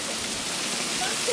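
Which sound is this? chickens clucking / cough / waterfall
waterfall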